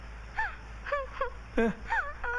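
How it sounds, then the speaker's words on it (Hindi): Someone cries over a phone call in a string of about six short, strained sobbing wails, thin and slightly muffled, separated by brief pauses. "ये तो किसी के रोने की आवाज है।"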